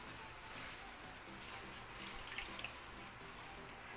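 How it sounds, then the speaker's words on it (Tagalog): Water poured into a clean mixing container for red velvet crinkle batter makes a steady, even hiss of running liquid that stays moderately faint and unbroken for the whole stretch, with no voices. "ang una nating ilalagay ay yung ating tubig"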